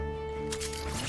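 Jump pad thrown in Apex Legends, a short whooshing burst that cuts in over a steady tonal game hum, close and brief.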